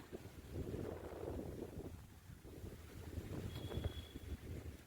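Wind blows by a lake at a botanical garden in Surat, a low, steady rumble buffeting the microphone close up, with no one talking.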